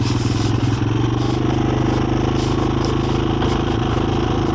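A Honda 250EX ATV engine runs loud and close in first gear as the quad starts moving, a steady buzzing drone with a rapid pulsing beat.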